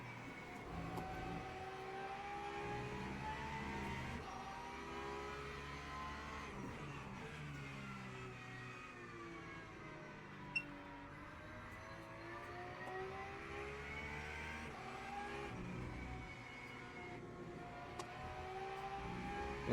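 A Porsche GT3 race car engine drones continuously at Spa in a racing game, rising and falling through gear changes as it pulls away, steady and fairly loud with no talk.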